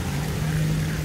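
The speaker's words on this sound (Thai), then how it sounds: "ได้ยินเสียงเรือแล้วเนี่ยมีเสียงเรือมาแล้ว" Boat engine droning steadily on the Bangkok Noi canal in Bang Kruai, a continuous low hum that stays loud and even throughout the short moment, with no talking over it.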